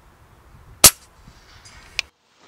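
A single sharp, loud shot from a Storm Goliath Magnum bullpup 6.35 mm PCP air rifle cracks out, followed about a second later by a smaller snap, likely the pellet striking its target, against a quiet background.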